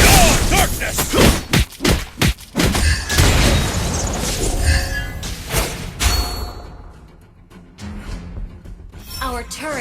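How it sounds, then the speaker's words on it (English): A turret being destroyed in the mobile game Mobile Legends, a series of heavy booming thuds and impacts crowding the first half, then fading into quieter game sounds. "Our turret has been destroyed."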